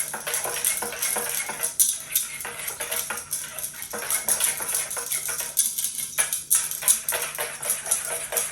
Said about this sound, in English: very quickly, before it gets too hot, I'm going to whisk in cornstarch